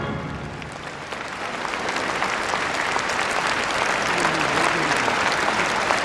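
Sustained applause and cheering from a large audience at the end of a grand performance in a hall, swelling slightly and holding steady as a loud, dense wash of clapping without talk.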